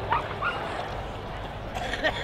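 A gundog barks and yips at a retrieving event at a country game fair, a few short sharp calls near and far over crowd murmur and someone speaking.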